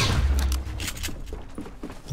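Turret gunfire in Fortnite, a rapid burst of shots with a heavy low thump at the start, followed by scattered sharp reports, close and loud.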